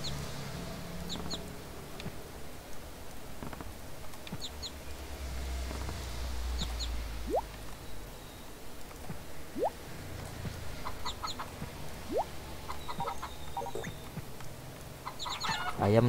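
Chickens cluck in short, faint bursts in the farm game Harvest Moon Save the Homeland, scattered calls recurring over a quiet game background with a few brief chirp-like effects.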